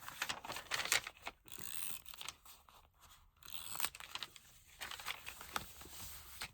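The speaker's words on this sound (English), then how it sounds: "let's tape these babies up" Adhesive tape torn and pressed onto notebook pages, giving close, irregular bursts of crackling, crinkling rips with brief pauses between them and no talking.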